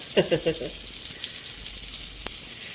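Onions frying in a pan for chicken tinola give off a steady, soft sizzle throughout, with a few brief clinks or stirring sounds near the start.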